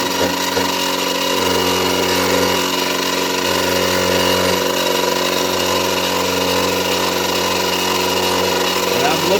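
A power tool plunge-cuts into the metal frame of a Kato SD40-2 model locomotive, a loud, steady high-pitched grinding whine that holds without a break throughout.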